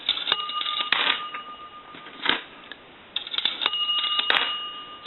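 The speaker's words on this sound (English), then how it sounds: "since the first ring of the dime is so loud, sometimes you don't hear the second one" Coin bell on a 233G three-slot payphone ringing as dimes are fed through, a series of sharp metallic dings with bright sustained tones, several strikes spread across the clip with brief rustling and mechanical clatter between them.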